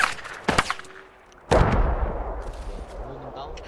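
Rifle fire rings out during a military field training exercise on a breakthrough drill: two loud, close shots about a second apart, each followed by a rolling echo that fades across open ground.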